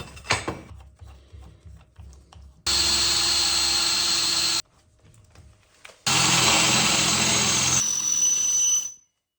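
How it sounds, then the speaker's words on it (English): A power drill bores a small hole in metal, whining in two bursts separated by a pause, preceded by a few light knocks and handling sounds, then winds down. "So I'll just drill a small hole in here to locate this."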